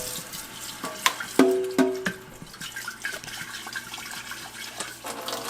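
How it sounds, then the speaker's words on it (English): Running tap water rinsing out a container in a kitchen sink, a steady close splashing wash with a few sharp knocks and clinks near the start, no talking. "let me rinse this out real quick."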